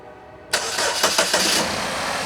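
A Chevrolet Equinox with an intermittent power-loss fault cranks and fires up close by, giving a few quick revving surges before settling into a steady idle.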